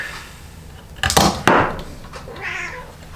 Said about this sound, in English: the cat's in here with me.